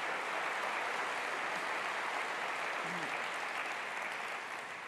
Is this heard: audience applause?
yes